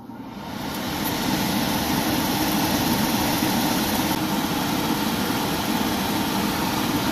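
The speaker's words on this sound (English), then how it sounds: "Because I remove power, this will cause my furnace to automatically restart the startup procedure." A gas furnace restarting its startup sequence gives a steady, continuous mechanical hum and whoosh that swells in over the first second and then holds constant, with no voices.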